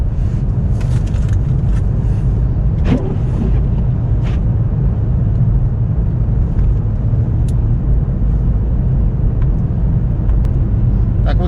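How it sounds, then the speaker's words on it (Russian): A car drives along a snow-covered road in a blizzard, giving a loud, steady low rumble of engine and wind noise inside the cabin with a few faint clicks. "буду по дороге вам моменты какие-то снимать, как я еду, и метель вы увидите"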